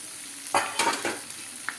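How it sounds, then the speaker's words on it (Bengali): A spatula stirs fried eggplant and potatoes in a pan over a continuous sizzle, with about four distinct scraping strokes, three close together and a last one a moment later. "দিয়ে খুন্তি দিয়ে আবার উপর নিচে করে একটু নাড়াচাড়া করে নিচ্ছি।"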